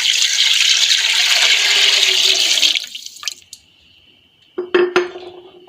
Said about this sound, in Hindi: मटन ऐड करने के बाद 1 जग पानी का ऐड करेंगे।